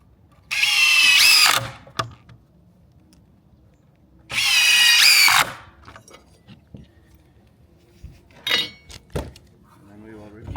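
A power drill whines loudly in two bursts of about a second each, driving screws into sauna wood during assembly, followed by a shorter third burst and scattered knocks and handling clicks between them.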